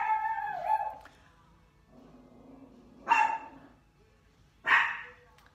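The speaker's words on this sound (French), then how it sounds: "S'il y a quelqu'un, pourriez-vous faire arrêter de japper le chien?" A dog barks and yaps indoors in a home, with sharp, loud bursts near 3 and 4.7 seconds after softer sounds, heard close by and alone, with no talk over them.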